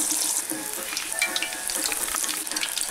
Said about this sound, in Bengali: এবার একে আমি ডিপ ফ্রাই করব।